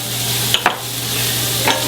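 Shallots sweat in butter in a pan as a salmon burger sauce begins, a soft constant sizzle under a low hum with a couple of quick utensil scrapes.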